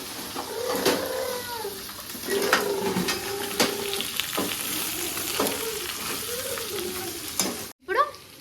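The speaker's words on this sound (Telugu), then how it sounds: "ఇప్పుడు మనం క్రాప్స్ యాడ్ చేసుకున్నాము ఇలా కలుపు మంచిగా" Crab pieces are stirred into fried onions in a hot pan, a steady sizzle broken by repeated spatula scrapes and clacks, close and moderately loud, with a brief drop near the end.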